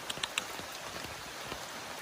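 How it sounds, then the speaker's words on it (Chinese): Heavy rain falls steadily outdoors during a prolonged downpour, a dense continuous patter with a few sharper drips standing out early on, no voices present. "雨下得太大了"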